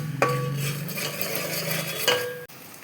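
Spices or aromatics frying and being stirred in a pan for a Sunday special meal, a steady close sizzle broken by two sharp metallic scrapes of the spoon, alone without talk.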